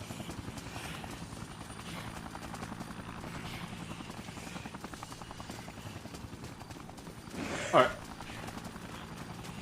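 Helicopter in the video game Dead Rising, a steady rapid rotor chop throbbing throughout with a brief loud burst near the end, while someone speaks over it.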